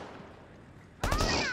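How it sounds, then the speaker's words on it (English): Video game gunfire bursts out suddenly after a stretch of low background noise, a loud close crack followed by rapid overlapping shots and ringing echoes. "God, this is the fucking worst gunfight I've ever seen in my life."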